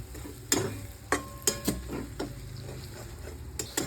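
Masala with coriander powder being sautéed in a pan for chicken gravy, heard as a soft background sizzle broken by several sharp scraping and stirring clicks of a utensil against the pan, spaced irregularly.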